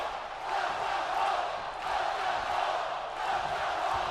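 Arena crowd in the WWE 2K22 wrestling video game, NXT show, cheering and chanting loudly in a continuous wash of voices that swells and dips slightly, with no commentary over it.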